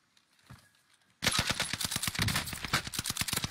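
Video game gunfire breaks in abruptly after a quiet moment, a loud, rapid automatic burst of shots rattling on continuously to the end.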